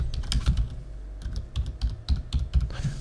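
Fingers tap quickly and unevenly on a computer keyboard at close range, a dense run of light key clicks with thuddy low knocks, keying in a new page name.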